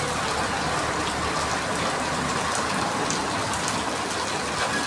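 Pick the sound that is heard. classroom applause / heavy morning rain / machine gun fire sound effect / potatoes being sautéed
heavy morning rain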